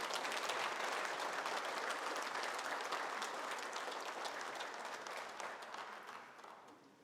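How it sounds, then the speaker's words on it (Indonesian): A large audience at a national conference gives loud, dense, sustained applause that fades slightly toward the end, with no talk. "Mari kita berikan tepuk tangan yang meriah."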